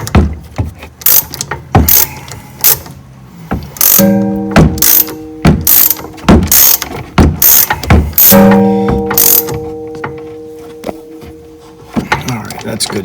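Ratchet clicking in repeated bursts while bolts on a 2013 Toyota Avalon steering column are snugged down, loud and close, with pauses and some metallic clanks between strokes.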